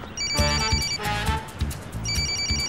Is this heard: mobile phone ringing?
yes